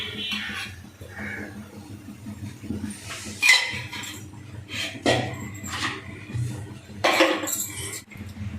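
A kadai is set on a lit stove and oil is poured in for vegetable fried rice, giving a few scattered metallic clinks and knocks over a low background hum, with no talk.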